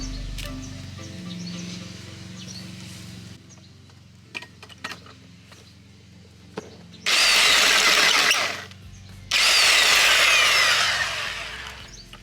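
A power drill whirs loudly in two sustained bursts of a few seconds each while fitting off-grid electrics in a van build, preceded by quieter handling noises and faint background activity, including a bird mimicking the drill.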